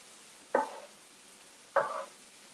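Kinder's butter, garlic and herb seasoning is stirred into steak and shrimp cooking hibachi-style at home, two short scraping strokes with a brief sizzle, close and otherwise quiet.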